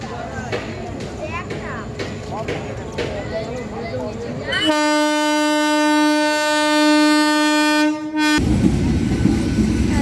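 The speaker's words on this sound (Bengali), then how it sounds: "হ্যাঁ, এটি একটু মালগাড়ি আসছে।" A freight train rolls through Padmapukur railway station in Howrah with a loud rattling rumble of wagons, then sounds a long, sustained horn blast before the clatter of the wheels returns, close by and with no talk.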